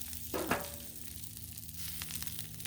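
Firecracker chicken dumplings fry on a Blackstone griddle with a steady, quiet sizzle and a brief louder crackle near the start, no talking.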